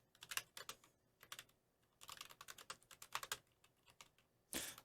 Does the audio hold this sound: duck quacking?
no